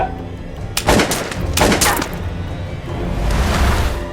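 A few sharp, loud gunshot bursts crack close by in quick succession, followed by a rougher noisy rumble.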